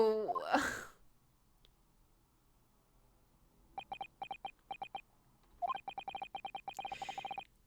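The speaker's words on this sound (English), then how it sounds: "Did those two rather tragic sneezes arise from your good self?" Two sneezes from The Great Ace Attorney game, sounding near and fairly loud at the very start, followed by a quiet gap and then bursts of rapid, beeping text-scroll blips.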